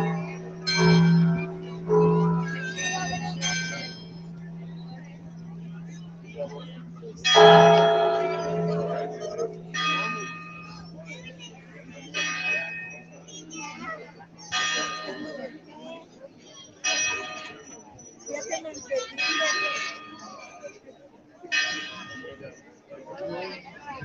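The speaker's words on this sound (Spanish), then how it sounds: "La bellísima parroquia y este tocar de sus campanas" Church bells of a parish ring out in a slow series of resonant strikes, each leaving a lingering tone, with faint voices in the background, at a night-time Christmas tree lighting in San Miguel de Allende.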